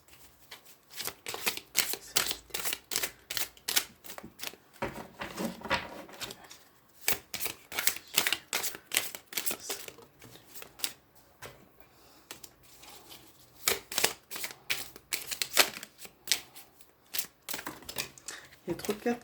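Tarot cards being riffled and shuffled by hand, with rapid papery flutters and slaps that come in uneven bursts, some cards dropping, close up and fairly quiet.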